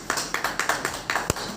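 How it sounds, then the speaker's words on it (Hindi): Hand clapping at a journalists' association welcome event in Govindpur, Jharkhand, sounding as a sparse, uneven run of individual claps rather than a dense ovation, fairly close and moderate in level. "जोरदार ताली होनी चाहिए"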